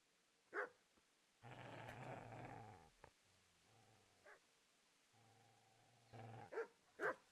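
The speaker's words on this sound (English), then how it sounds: "Get away, you mutt!" In the video game Kingdom Come Deliverance, a dog lets out a long throaty growl between sharp barks, with several close barks and yips at the start and end and a second, lower growl in the middle.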